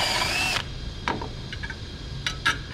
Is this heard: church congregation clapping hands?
no